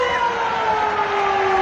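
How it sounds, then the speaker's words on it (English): Stadium siren blares for half-time at a 1991 rugby league match at Penrith Stadium, Penrith vs Western Suburbs, a loud sustained tone held steadily over crowd noise. "There's the siren."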